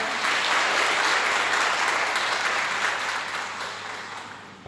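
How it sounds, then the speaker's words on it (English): An audience at an International Women's Day event claps energetically after a song, a thick roar of applause that stays strong before gradually tapering off toward the end. "Audience, let's give an energetic round of applause."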